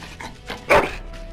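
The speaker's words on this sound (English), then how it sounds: "Bloody dog." A dog in the Dragon Age Origins game gives a single close, sharp bark after a few soft whimpering sounds.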